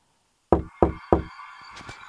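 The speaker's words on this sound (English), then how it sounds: "I knocked three times at the door" Three firm, evenly spaced knocks on a door, loud and close, followed by faint rustling.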